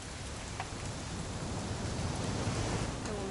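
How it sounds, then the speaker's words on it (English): Steady rain pours down in the video game What Remains of Edith Finch, a dense, even hiss of falling water on surfaces that stays constant throughout with no voices. "It's gonna rain the whole weekend, isn't it?"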